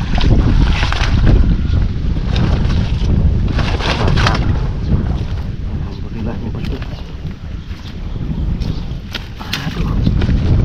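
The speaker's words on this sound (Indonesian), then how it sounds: "Angin Om. Angin." Strong wind blows steadily over a boat on a small drying ditch where people are fishing, a loud continuous buffeting roar with gusts, while people talk briefly.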